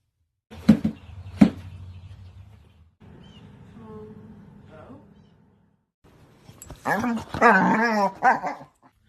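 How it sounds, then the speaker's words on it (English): A supposedly rabid dog growls and barks in a staged emergency-call comedy sketch, with sharp barks and rough snarling over a low background, ending in a loud burst of growls. "The dog that I bought on eBay is now rabid and trying to eat me."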